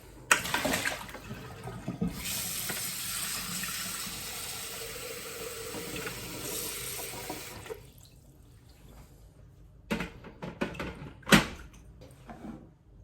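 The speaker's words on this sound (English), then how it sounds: "And then we're going to add 500 grams of water." Water is poured into a Thermomix TM7 mixing bowl in a kitchen, a steady loud splashing fill lasting several seconds, then stopping, followed by a few faint clinks and drips.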